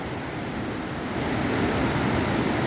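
Maranum Falls, a waterfall in Batchelor East, Pangasinan, roars as a steady, dense wash of falling water with no break or voice.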